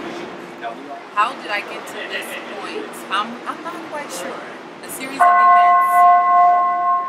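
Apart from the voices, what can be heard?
bell ringing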